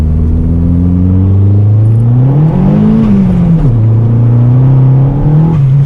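Boosted Vauxhall Corsa B with a turbocharged C20LET engine accelerating hard, a loud, close droning note climbing in pitch, dipping and rising again as the revs change, with a steady rumble underneath and no talking.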